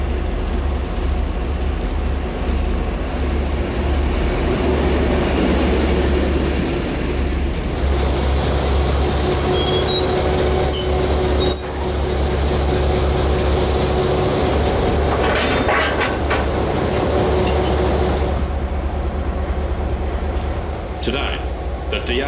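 DA class diesel locomotives haul a train along the main north line from Christchurch toward Kaikoura, with a steady loud low engine drone and rail rumble running throughout.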